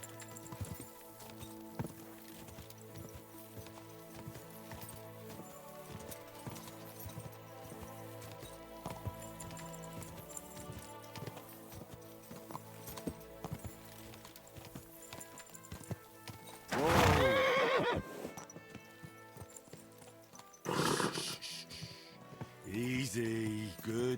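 Horse hooves clip-clop steadily beneath layered music in the medieval video game Kingdom Come Deliverance 2, with a couple of loud, brief neighs or snorts bursting out near the end.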